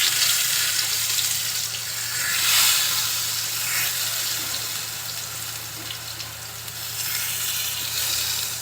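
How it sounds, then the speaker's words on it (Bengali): Eggplant slices rubbed with salt and turmeric fry in a little oil in a karai, giving a loud, steady sizzle with soft crackling that swells and eases; no voices. "অন্য পিঠটা একটু ভেজে নিচ্ছি"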